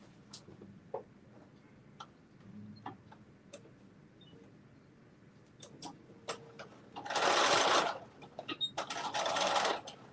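Sewing machine double stitching along the top of a zipper pouch: one steady burst of motor whir lasting about a second, then a cluster of shorter stitching runs, with scattered clicks and handling taps between them.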